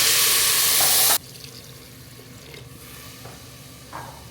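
Water pours loudly into a pot of vegetable pulao with fried green peas for about a second, then cuts off, leaving a quieter background with faint clinks and stirring.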